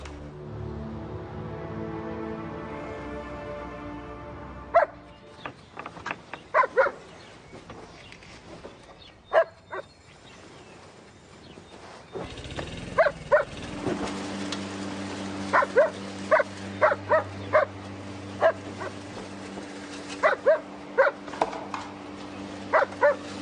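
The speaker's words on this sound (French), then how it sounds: "Qu'est-ce qu'il a encore à aboyer?" A dog barks repeatedly in short, sharp bursts at irregular intervals. A steady low hum and other background noise run underneath.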